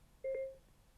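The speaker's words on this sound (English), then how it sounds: "wait for the beep" A FREECOM headset gives a single short, clean electronic beep as its voice assistant activates, faint and alone against quiet.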